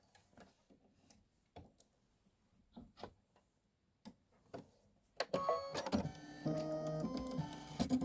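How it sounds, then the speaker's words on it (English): An embroidery machine with an 80/12 Microtex needle sews a quilt block at full speed, 800 stitches per minute. Sparse soft clicks and taps come first, then a loud, steady mechanical whir and rattle starts and runs nonstop to the end. "I'm going full speed, which is 800 stitches per minute right now."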